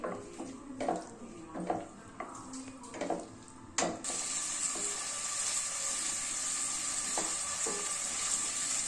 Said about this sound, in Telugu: ఆనియన్స్ ఉడికాక కొద్దిగా ఫ్రై అయినాక ఇవి పక్కకి తీసుకున్నాక టమాటో వేసి ఉడికించాలి